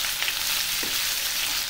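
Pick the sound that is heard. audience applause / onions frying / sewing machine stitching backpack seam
onions frying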